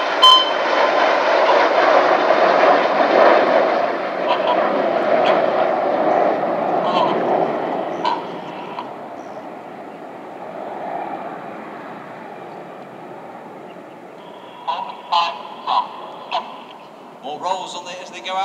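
RAF Red Arrows jets in a flying display over Epsom College, a loud broad roar sweeping overhead and slowly fading into the distance, with scattered crowd sounds later.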